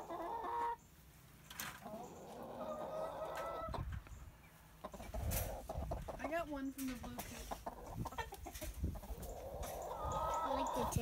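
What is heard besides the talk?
chickens clucking on a farm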